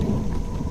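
Thunder from a storm rolls as a short, deep rumble, heavy low-pitched noise with a faint hiss of rain.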